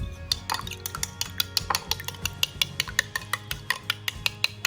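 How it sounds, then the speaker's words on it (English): Egg whites being stirred into raw chicken pieces in a bowl for sweet and sour chicken, a quick run of sharp utensil clinks against the bowl in a steady mixing rhythm, close and fairly loud with no voices. "And then give it a good mix."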